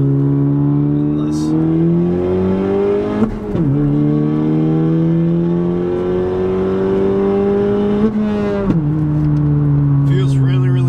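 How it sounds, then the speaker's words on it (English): Engine of a 2018 Honda Civic Si fitted with a Hasport rear motor mount, heard from the cabin: a loud, steady drone that rises through the revs, drops sharply at two gear shifts, then climbs again, with someone talking over it. "It's so much easier to shift into second, like downshifting and whatnot."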